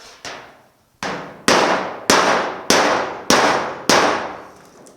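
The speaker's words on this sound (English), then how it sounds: "So I'm just going to start with a rubber mallet and see if it's going to do what I want it to do." Rubber mallet knocking a dent out of the hood of a 1950 Chevy truck: seven loud, ringing metallic blows about half a second apart, close and with no talking.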